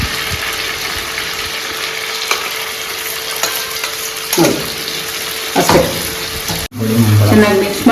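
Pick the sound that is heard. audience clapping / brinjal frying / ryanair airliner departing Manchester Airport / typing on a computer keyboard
brinjal frying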